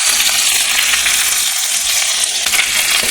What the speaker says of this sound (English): We are just browning the meatballs on both sides, I will remove them now from the skillet.